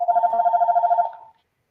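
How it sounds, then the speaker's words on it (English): A landline telephone rings indoors in a rapid electronic warble, one burst of about a second that is loud and close, then cuts off into silence. "Got a phone interruption there."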